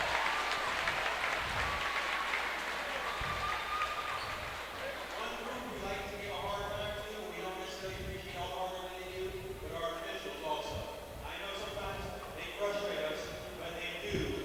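Crowd applause at a high school basketball championship final begins loud and dense, then thins under ongoing commentator talk while scattered clapping continues in the background.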